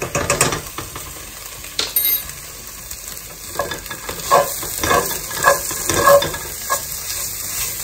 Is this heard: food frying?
yes